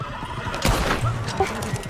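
Horse in a medieval video game whinnies once briefly amid game sounds and background noise, fairly close and moderately loud.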